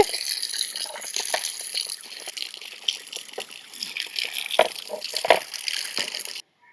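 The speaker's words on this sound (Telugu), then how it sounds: "నీళ్లు పెట్టి ఒక రెండు మూడు సార్లు కడిగేసుకోవాలండి" Scraped nalleru stems are rinsed by hand in water, giving continuous close sloshing, trickling and dripping with a few sharper splashes, then abrupt silence at the very end; no talking.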